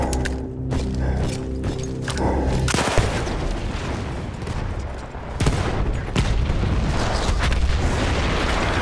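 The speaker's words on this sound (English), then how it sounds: "That explosion was one of the sweetest sights of the war for me." Battlefield 1 wartime combat: a heavy blast hits near 2.8 s and rolls into dense, continuous rumbling gunfire and mechanical clatter, with further sharp bangs around 5.4 and 6.2 s, loud and sustained throughout.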